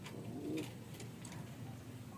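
Pigeon cooing, a faint low coo swelling briefly near the start over steady background hiss, with a few soft chirps after; no talk.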